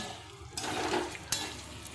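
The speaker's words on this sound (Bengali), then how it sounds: "এবার আমি ডালটা দিয়ে দেবো ডালটা দিয়ে আবার ভালো করে ভাজা ভাজা করে নেব" Lentils tossed into a pan of sautéing vegetables for a vegetarian khichuri, a sudden soft sizzle with a quick scrape of stirring.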